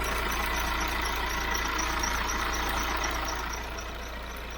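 A steady idling engine hums with a thin, high-pitched squeal from a worn alternator belt running over it like chirping, continuous and close throughout.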